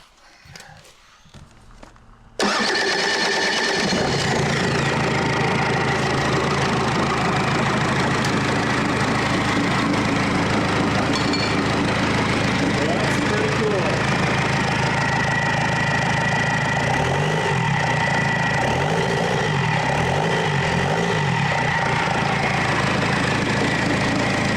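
A Cummins R2.8 diesel engine, swapped from a shipping crate, cranks over after a few quiet clicks and fires up. It then settles into a loud, steady, close-up idle that runs unbroken to the end.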